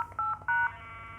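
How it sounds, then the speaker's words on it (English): A Wavetek 600CAT cellular activation tester sends a control channel signal: two short, faint electronic tone bursts over a low hum, then a softer steady tone. "That's the control channel that this thing is sending right now."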